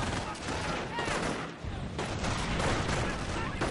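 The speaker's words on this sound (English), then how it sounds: "So the sniper takes his first shot." Rifle shots and scattered gunfire ring out in a World War II strategy game battle, with dense overlapping bursts and a dip in the middle, and speech faintly mixed in.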